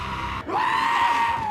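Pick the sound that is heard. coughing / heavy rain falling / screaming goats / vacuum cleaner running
screaming goats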